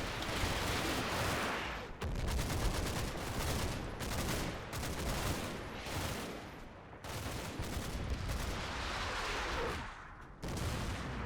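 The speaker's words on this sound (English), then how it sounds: "Is that fire coming from over here?" Sustained gunfire in the Normandy wargame Combat Mission: Battle for Normandy, with loud, dense bursts of rifle and machine-gun fire rattling almost continuously and broken by brief pauses between volleys.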